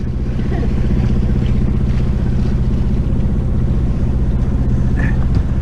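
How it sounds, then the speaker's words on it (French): A boat's outboard motor drones steadily at half throttle while cruising, loud and close with a constant low rumble, wind buffeting the microphone and faint water noise throughout. "Là, notre moteur il est à moitié de régime."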